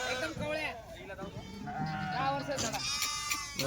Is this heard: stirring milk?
no